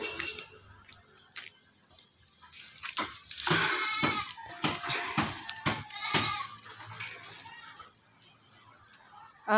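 A goat bleats close by in a backyard farm setting. A run of loud, wavering cries comes in bursts of varying length, with some background noise between them.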